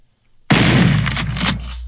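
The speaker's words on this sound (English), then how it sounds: "Gunshot, boy." After a brief silence, a single loud gunshot bursts out and rings briefly.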